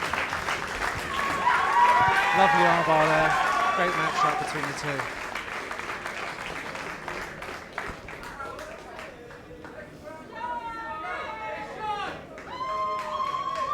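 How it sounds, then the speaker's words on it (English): Supporters applaud and cheer loudly in a fight venue after Sean McDonagh wins by armbar, the clapping swelling then tapering beneath a commentator's voice. "The rapturous applause from his supporters here."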